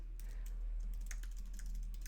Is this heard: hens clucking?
no